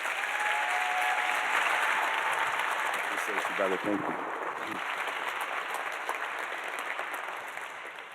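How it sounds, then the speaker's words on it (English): An audience at a justice keynote conference in Minneapolis breaks into warm, sustained applause, loud and dense at first and then gradually thinning, while a voice speaks briefly over the clapping. "Please give a warm round of applause"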